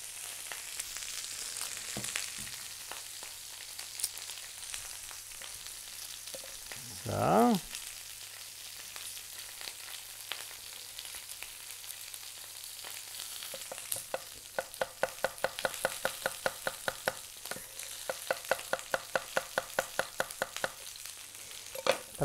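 Artichokes fry in a pan with sprinkled shallots and garlic, producing a soft, continuous sizzle with a brief scraping stir midway, followed later by a rapid, regular run of tapping or chopping-like clicks.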